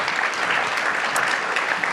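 A conference audience applauds in a hall, a dense, loud patter of many hands clapping steadily for the whole stretch with no pause.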